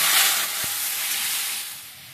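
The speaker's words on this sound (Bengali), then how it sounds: "এবার আমি সিদ্ধ করে রাখা শাকটা ঢেলে দিচ্ছি" Boiled greens poured into hot oil already holding fried mustard seeds and chillies, a loud hiss and steam-like sizzle that surges at once, then settles into a softer, fading fry over about two seconds, close up with no talking.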